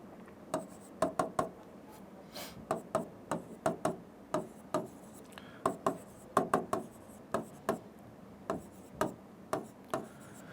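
Chalk or marker writing on a board during a maths lesson, a quiet series of quick taps and strokes in uneven clusters, close and isolated without speech.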